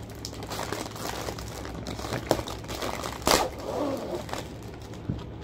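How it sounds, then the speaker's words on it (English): Plastic packaging of peanut butter cream Oreos is crinkled and torn open, a steady crackling rustle with a few sharper crunches, close up. "Get the packaging open."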